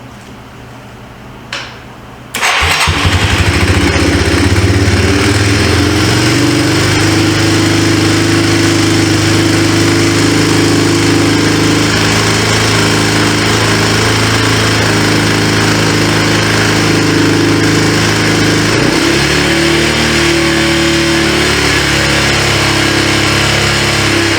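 Abandoned Yamaha 250 Timberwolf ATV engine starting up after a brief quiet stretch, then running loud and steady near the microphone, with a slight wavering change in pitch partway through.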